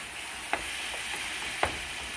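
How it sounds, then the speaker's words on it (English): Shrimp fried rice with soy sauce is stirred in a big pan, with a continuous close frying sizzle and two sharp scraping clacks as the rice is broken up. "now just stir and break up the conglomerated rice"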